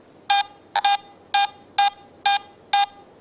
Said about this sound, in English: still a strong, clean, medium tone.